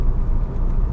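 The engine of the oldest Ford Focus in the UK idles with a low rumble from close range, its note stumbling briefly as it hesitates.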